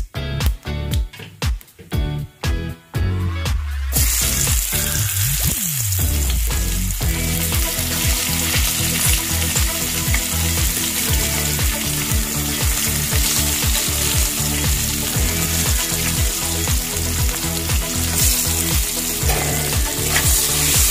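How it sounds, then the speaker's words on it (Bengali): Onions frying in oil in a pan for a Bengali-style tilapia fish curry with cauliflower and potato, a loud steady sizzle with repeated scraping stir strokes, starting with a few clatters of adding and tossing before the hiss settles in. "পেঁয়াজটাকে একটু ভাজা ভাজা করে নেব।"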